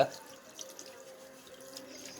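Water runs steadily from a tap or is poured into a container, a continuous faint splashing stream with a few small drips, alone and fairly quiet throughout.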